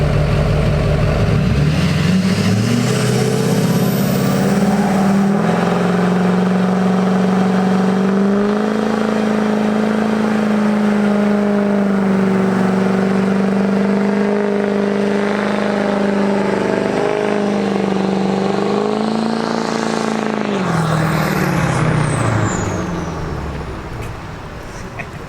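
A boosted 4x4 truck engine revs hard and holds a loud, sustained roar for about twenty seconds as the tires spin, pitch wavering, then drops off and fades near the end.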